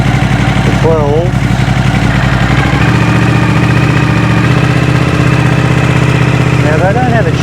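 A Suzuki V-twin superbike engine running on fast idle, a loud, steady close-up drone with an even throb throughout, while a person talks over it.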